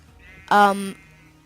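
A single short sheep bleat from the Minecraft video game, loud and close, lasting under half a second, with nothing else around it.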